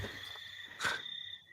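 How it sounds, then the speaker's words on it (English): A cricket chirps at night outside a dark house, a faint, steady high-pitched trill running through quiet surroundings, with a brief soft rustle partway. "Yeah. That's a cricket"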